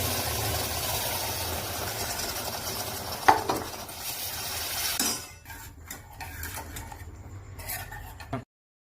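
Peas tipped into spiced ragda in a pan and stirred, with a steady scraping, sizzling bed and a sharp clink midway; stirring continues, then cuts out abruptly near the end.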